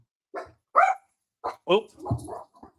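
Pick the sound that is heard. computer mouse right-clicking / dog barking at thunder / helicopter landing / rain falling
dog barking at thunder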